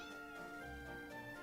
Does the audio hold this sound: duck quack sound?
no